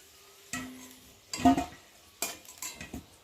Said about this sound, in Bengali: আর আলু এখন চিকেনের জন্য আলু ভাজা হচ্ছে